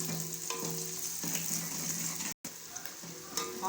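Onions frying in a pot as the base for achar gosht gravy, a continuous close sizzle with a few stirring clinks and one brief dropout midway, no talking.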